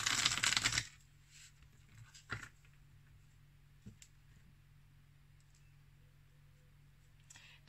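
Oracle message cards being shuffled by hand, a dense riffling burst at the start followed by a few soft taps and clicks against near silence.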